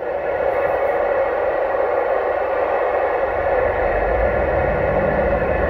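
A CB radio puts out an unbroken wash of static hiss with a faint tonal hum beneath it, holding at a steady level from start to finish.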